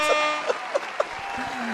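Short bursts of an air horn sound effect blast four times in quick, evenly spaced succession, loud and close, followed by a brief lower tone near the end.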